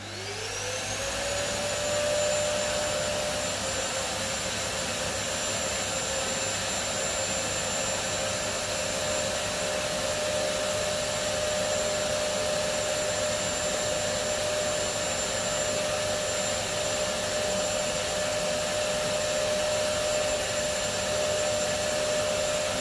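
A pond vacuum spins up and then runs continuously with a steady loud whooshing whine and a high pitched motor tone, close by and unbroken by talk for over twenty seconds.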